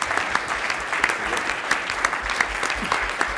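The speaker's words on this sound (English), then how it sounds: "already a round of applause for such a great panel" Steady, dense applause from an audience at a live endurance event organizer panel, continuous clapping with brief sharper peaks throughout.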